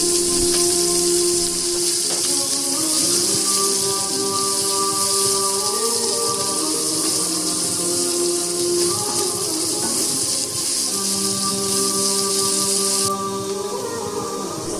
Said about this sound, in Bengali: এখন পেঁয়াজ কাটা ঢেলে নাড়তে থাকি।